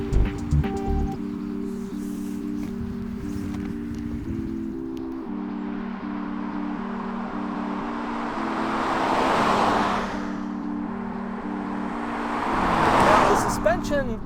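A 2020 Kia Soul X-Line driving on the road, with a steady low engine and road drone throughout, tyre and wind noise swelling twice as it moves along, and no talk over it.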